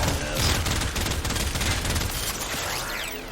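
Rapid full-auto fire from the Thornbak weapon in the video game Warframe, a dense, continuous stream of loud shots lasting throughout with no pauses.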